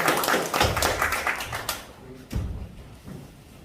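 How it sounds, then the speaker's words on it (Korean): An audience at a village community meeting claps for the presenters. The dense clapping rises quickly, then thins to a few scattered claps and thuds before fading out. "큰 박수를 한번 부탁드립니다."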